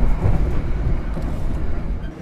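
Jayabaya economy passenger train arriving at Cirebon station, heard from inside a carriage as a loud, steady low rumble and rolling noise with no break, fading slightly at the end.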